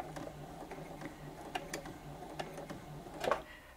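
A Brother Innov-is 15 sewing machine running at its slowest speed, with irregular mechanical ticks and clicks over a low motor hum.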